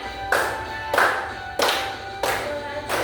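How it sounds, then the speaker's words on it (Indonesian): A group clapping hands together in unison during a classroom chant, five loud, evenly spaced claps about two-thirds of a second apart, with faint sustained tones lingering between them. "Sambil tepuk tangan boleh?"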